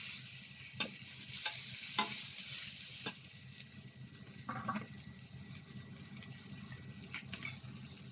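Garlic frying in a pan with a steady sizzle while a utensil stirs it, producing intermittent scraping clicks at the pan's surface; close and continuous, with no talking.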